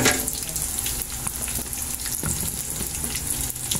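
Ground meat with cheese frying in a pan, a dense continuous sizzle with faint stirring clicks, close and fairly loud, no talking.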